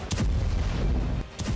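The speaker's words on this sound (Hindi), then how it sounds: "हिजबुल्लाह ठिकानों पर भीषण बमबारी की है।" Heavy bombardment of Hezbollah positions in Lebanon: a sustained roar of booming, rumbling blasts with a brief dip, loud and dense throughout, with no voices.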